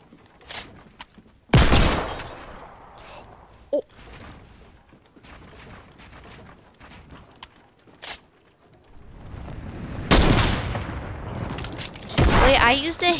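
Desert Eagle pistol fire in a first-person shooter one-on-one match: a few sharp, loud shots scattered across the clip, including a tight cluster near the end, with a player talking between them.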